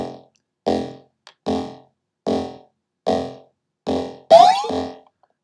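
Retro video game sound effects for picking up a gun: a series of short, evenly spaced electronic blips, ending in a louder burst with a sliding, warbling pitch, with no talking.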